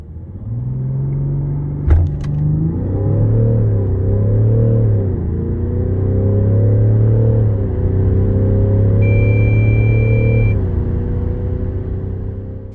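A Range Rover Sport D350 with a 3.0 straight-six diesel, eight-speed automatic and four-wheel drive accelerates hard from inside the cabin, the engine droning loudly and rising through several gear changes, with a short chime near the end.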